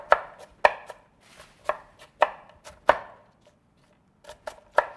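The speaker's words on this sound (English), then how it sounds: "At home, I like to use a wooden chopping bowl, one of those hand choppers that do it real fast." An apple chopped in a wooden bowl with a hand chopper, sharp repeated knocking chops in an uneven rhythm, close and distinct, with no talking.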